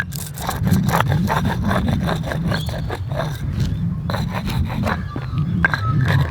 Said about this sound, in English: I'm just using plain old candle wax.